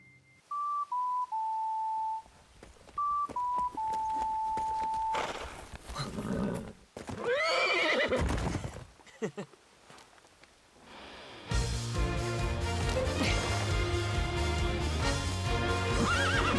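Horse neighs and whinnies with clip-clopping hooves in the video game Hyrule Warriors, a loud whinny rising over a few steady beeps before galloping hoofbeats and game music take over.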